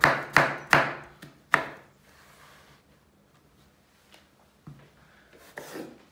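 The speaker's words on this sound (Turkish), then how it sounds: "Sıra geldi patlıcanları doğramaya." A knife chops through eggplant on a cutting board: four sharp, close strokes in quick succession, then softer scraping and a few lighter cuts after a pause.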